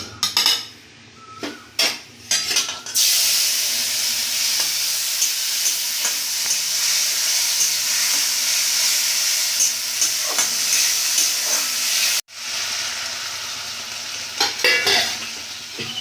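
Cumin, bay leaf and a paste of tomato, ginger and red chilli powder fry loudly in hot oil, a steady close sizzle broken by repeated scraping and clanking of a metal spatula against the pan.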